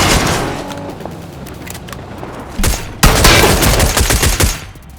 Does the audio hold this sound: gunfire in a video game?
yes